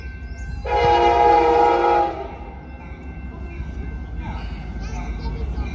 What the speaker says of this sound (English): this is my train to go back to Jet London Square from here